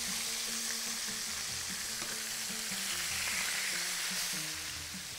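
Fish sizzles and crackles steadily in a hot pan of oil for Bahraini fish curry, a dense close frying hiss that stays even throughout, with faint utensil scrapes beneath.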